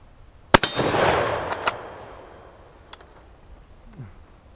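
A rifle firing Egyptian 8mm Mauser ammunition, one sharp, loud shot with a long decaying echo, followed by a couple of fainter metallic clicks from working the action.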